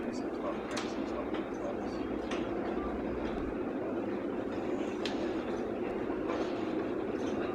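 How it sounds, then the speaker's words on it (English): A Rouge B1 monorail train runs with a steady, even rumble and faint clatter from inside the car, while a voice talks over the constant noise. "This is a Rouge B1 monorail service."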